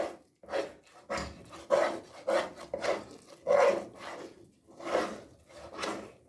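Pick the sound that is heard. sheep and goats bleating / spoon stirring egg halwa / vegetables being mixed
spoon stirring egg halwa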